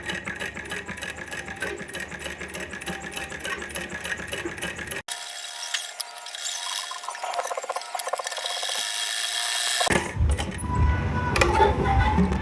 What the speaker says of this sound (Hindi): ये देखिए मशीन पर हमने सिलाई लगा ली है